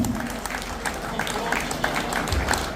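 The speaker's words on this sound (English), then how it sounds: "Round of applause round the room, please." Scattered clapping from a modest crowd at an auction during a football legend's evening event, a loose patter of hands at moderate volume with some voices mixed in.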